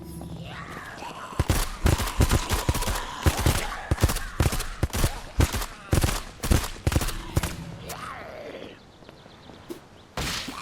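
Video game gunfire while fighting a horde in a survival game after the power shuts off: rapid bursts of sharp shots in irregular clusters, loud and close, with brief pauses between volleys.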